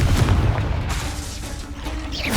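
Confringo fire blast spell cast in the Hogwarts Legacy video game, a loud booming burst with rumbling, mechanical crackle and a whooshing tail, alone without speech.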